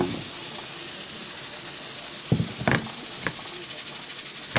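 Onions frying in hot oil give a steady, fairly soft sizzling hiss with a few sharp crackles and pops partway through.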